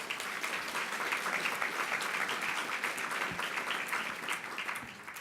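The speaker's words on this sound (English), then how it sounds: "Let's give him another round of applause." An audience at a breakfast event marking Pine Street Inn's 50th anniversary gives a round of applause, a dense, even patter of many hands clapping in a large room that holds steady and then tapers slightly toward the end.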